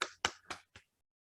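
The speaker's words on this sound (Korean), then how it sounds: "저희 축하 박수 한번 보내고 시작할 텐데" Congratulatory clapping at a kindergarten directors' session: four crisp, evenly spaced claps, quiet and close, followed by silence.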